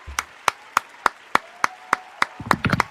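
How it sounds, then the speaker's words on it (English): A single person claps alone, about ten crisp, evenly spaced claps close by, speeding into a quick flurry at the end, with a brief low voice at the start. "I want to hear it. Clap for yourself."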